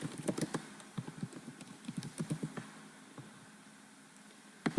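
Someone types on a computer keyboard while building a Popplet mind map: quiet, irregular bursts of close key clicks, then a pause and a final couple of sharper taps at the end.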